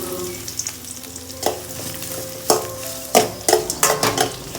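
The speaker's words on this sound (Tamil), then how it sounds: "அதுக்கப்புறம் ஆனியன்ஸ் போட்டு நல்லா ஃப்ரை பண்ணி எடுத்துருங்க." Sliced onions fry in hot oil with mustard seeds and chana dal, giving a steady close sizzle. Several sharp scrapes and clinks of a spoon stirring the pan punctuate the sizzle, and no one speaks.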